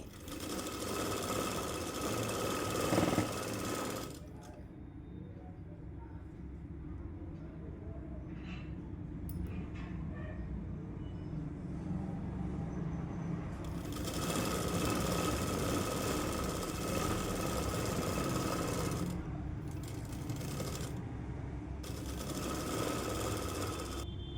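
Sewing machine stitching a Punjabi dress runs in long steady bursts of rapid mechanical whirring, pausing briefly between runs, close and clear.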